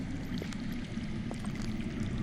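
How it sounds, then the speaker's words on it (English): Underground water flows in a Game of Thrones adventure game, a low continuous rushing and gurgling murmur with faint splashes, steady throughout and heard alone without speech. "I hear water. From underground."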